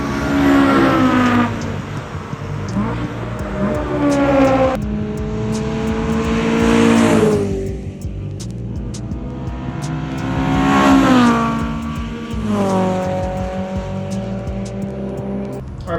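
A car with a loud aftermarket exhaust revs hard through the gears on a race track, the engine note rising and dropping repeatedly as it accelerates and shifts.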